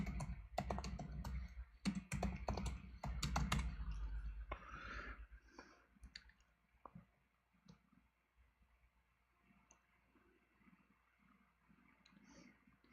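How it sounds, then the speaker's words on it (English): Quick bursts of clicky keystrokes on a computer keyboard, close and crisp at first, then thinning out to scattered taps in a quiet room. "Let's type it in."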